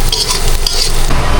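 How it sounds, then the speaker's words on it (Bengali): Onions fry loudly in a pan for beresta, a dense, continuous hiss and crackle with stirring scrapes mixed in, up close and without any talking. "এটা হচ্ছে বেরেস্তা করতে হবে। বেরেস্তা করে তারপর দিব মাংস।"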